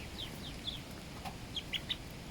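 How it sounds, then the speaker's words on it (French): Young chicks and pullets with a small cockerel, kept in a backyard coop, give a few short, faint high peeps and clucks in quick irregular bursts over a steady low background hum. "Mes jeunes petits poussins."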